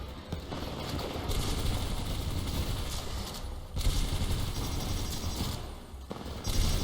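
Rapid bursts of gunfire at robots in Titanfall 2, sustained automatic shots with brief pauses between volleys, loud and continuous over a low engine-like drone.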